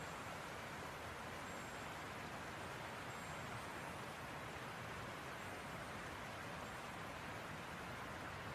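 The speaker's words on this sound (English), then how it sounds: "fades into the soothing patter of the rain." Steady, soft rain patters continuously in a broadband hiss, even and unbroken throughout, with no voices and no distinct individual drops standing out.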